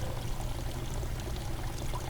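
Water flowing back into the sump of a homemade hydroponic system, a steady, continuous pouring rush that stays fairly loud and close throughout, with no talking.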